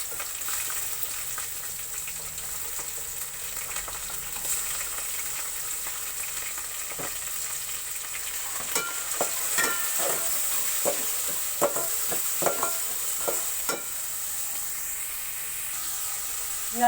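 Chunks of liver hit a pan of sautéed onions while cooking menudo, giving a steady close sizzle and fry hiss. Repeated clinks and scrapes of stirring follow in the second half, with no talk.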